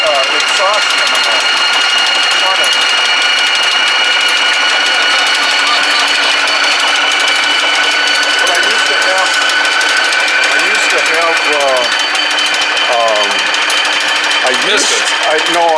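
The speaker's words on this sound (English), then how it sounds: "A wooden engine crankable car?" A homemade wooden car engine runs steadily with a droning mechanical hum and tonal whine, with occasional chirping or squeaky noises on top, close and continuous throughout.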